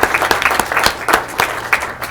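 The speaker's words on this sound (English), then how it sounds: "I think that deserves another round of applause as well" An audience at a board of education meeting applauds a wrestling coach, a steady burst of many hands clapping at close range, dense and even with no voices over it.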